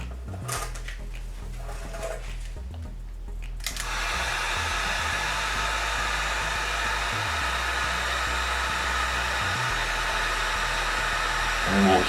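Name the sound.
heat gun shrinking heat shrink tubing over solder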